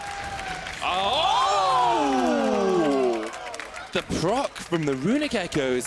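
Arena crowd at a League of Legends LEC esports match roars loudly and steadily for about two seconds, then fades as an excited commentator talks over the hall.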